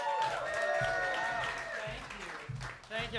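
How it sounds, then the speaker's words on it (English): Audience applause at a stand-up comedy show at Broadway Comedy Club in New York City, a steady wash of clapping and crowd noise with a host's voice talking over it and a few louder bursts near the end. "Start clapping it up, everyone, for John Ajodah"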